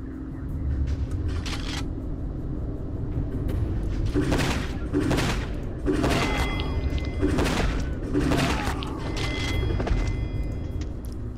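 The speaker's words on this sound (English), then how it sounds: "My shooting kinda sucks" Gunfire in the Exmortis 3 horror video game, a series of loud booming shots repeating every second or so over a constant low rumbling game ambience.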